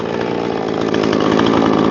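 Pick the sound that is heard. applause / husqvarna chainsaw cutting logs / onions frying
husqvarna chainsaw cutting logs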